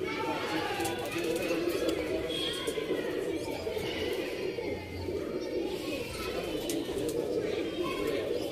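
A pigeon loft fills with steady cooing and soft chatter from many birds, a dense, close wash of sound. People talk faintly underneath.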